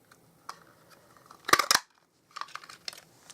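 Scissors cutting a tab out of card stock for a handmade card: a few crisp snips, one louder double cut in the middle, then lighter trailing snips, close and quiet.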